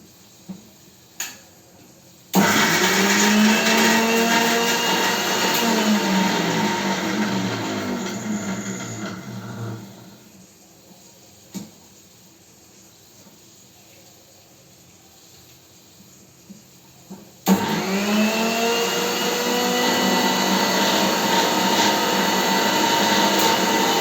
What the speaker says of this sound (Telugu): ఇప్పుడు ఇదంతా కూడా మనం మిక్సీ చేసేసుకుందాము.